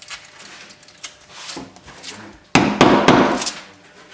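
A hammer raps a wooden block to tap a benchtop down into place. A few light knocks come first, then a louder, sharper strike near the end that rings briefly, all close up.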